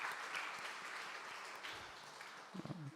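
A church congregation claps after a testimony, producing a short burst of soft, distant applause that fades toward the end under a faint voice.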